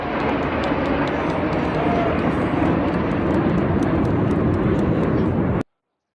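RAF Red Arrows jets in an airshow display over Blackpool: a loud, steady, close jet roar that fills the whole stretch and then cuts off abruptly.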